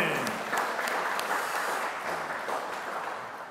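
Church congregation applauding together, a steady wash of clapping from a large room at moderate volume that thins out slightly toward the end.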